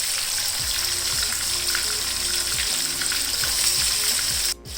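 Chicken pieces, about a kilogram, frying in hot oil with tomatoes in a karahi, giving a loud, continuous sizzle with a few clinks and stirring sounds and a sharp clatter near the end.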